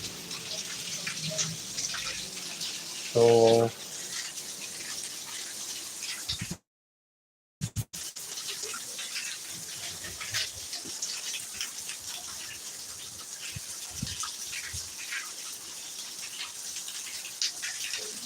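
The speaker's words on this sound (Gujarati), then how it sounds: "ફૂલ વરસાદ આવે છે અત્યારે ને જામનગરમાં વરસાદ ફૂલ એટલે ફૂલ" Heavy rain falls in Jamnagar as a continuous broadband hiss of drops, with one brief tonal chirp early on and a short dropout near the middle before the downpour resumes unchanged.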